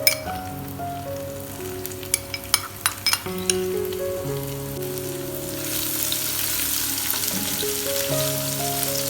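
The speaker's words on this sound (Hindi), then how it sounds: "इसको हम करेंगे हल्का सा फ्राई" Chopped garlic and ginger with whole cumin seeds sizzling in hot oil in a pan, a steady loud frying hiss with a few early clinks of a spoon, close and continuous, no talking.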